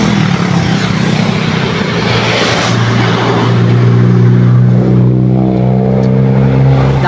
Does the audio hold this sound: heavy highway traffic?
yes